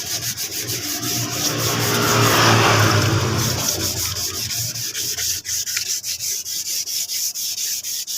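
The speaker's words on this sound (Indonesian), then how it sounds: "ini sedikit-sedikit juga masih ada lemnya, jadi perlu dihaluskan seperti ini" Hand sanding scrubs leftover glue from the plastic body panel of a Yamaha Mio scooter in a roadside workshop, a loud, close, rhythmic rasp of repeated back-and-forth strokes that swells midway and stays steady.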